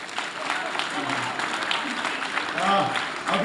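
Continuous crowd applause at the 14th International Urdu Conference, Arts Council of Pakistan, Karachi, a dense patter of clapping hands, with a voice speaking over it.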